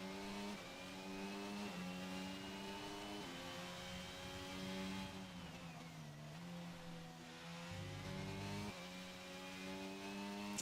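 AlphaTauri Formula 1 car engine on an out lap at Jeddah in a racing video game, a steady high-pitched whine with continuous gear-shift steps and revs rising and dipping, loud and close throughout.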